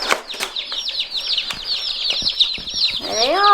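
Chicks in a brooder holding 32 young birds give a steady run of high, rapid peeping and cheeping, with a few louder close calls and rising chirps near the end.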